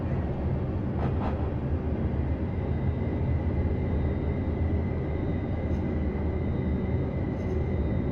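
A passenger train on the Portsmouth to Waterloo line rolls steadily as it slows to stop at a station, with a continuous low rumble and hum inside the cab and a couple of faint brief squeaks.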